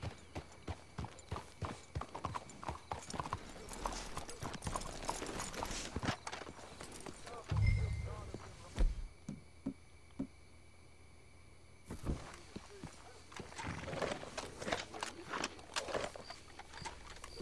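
Horses walking in the Red Dead Redemption 2 game world, hooves clip-clopping in a steady, fairly close rhythm with quiet stretches and a few louder thuds between.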